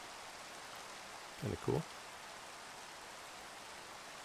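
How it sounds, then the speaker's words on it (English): Steady rain falls in Minecraft with the TerraFirmaCraft modpack, a constant soft hiss that fills the whole stretch while someone speaks briefly over it. "If you've got an unsealed barrel sitting out in the rain, you can see it filling up with the rainwater."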